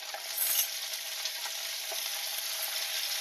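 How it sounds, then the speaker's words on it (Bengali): Chopped potatoes frying with onions in hot oil, a steady, even sizzle that stays close and moderately loud for the whole stretch, with no talking. "পেঁয়াজটাকে একটু হালকা ভেজে নেব। দিয়ে দেবো কুচিয়ে রাখা আলু"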